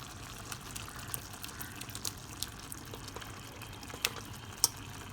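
Cooked dal, boiled in a pressure cooker, poured into a pot of mixed vegetable sambar: faint, soft wet slops and gentle liquid sounds, with a few small clinks of the cooker rim near the end.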